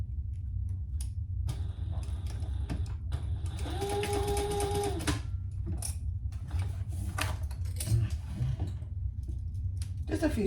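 A sewing machine basting a seam on a crossbody bag, running in a steady rapid mechanical patter with a rising whine as it speeds up mid-run, close and fairly loud over constant background noise.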